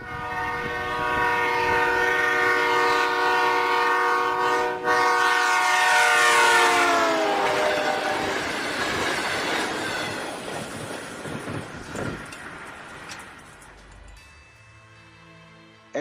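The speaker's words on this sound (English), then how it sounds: "As that train approached the observer, the pitch of the whistle got higher" A passing train sounds a long, loud horn whose pitch drops as it goes by, with rumbling wheels, clatter and screech continuing as it fades into the distance.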